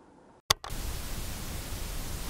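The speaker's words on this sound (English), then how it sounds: "How about some white noise?" A sharp click, then steady broadband pink noise fills the rest, constant and fairly loud with a slightly bassy tone.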